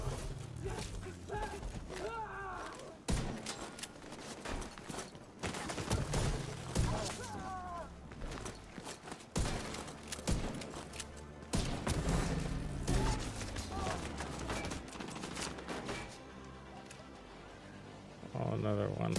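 Video game gunfire from a submachine gun in The Division 2 comes in rapid crackling bursts and scattered impacts, mixed with a player's voice talking throughout.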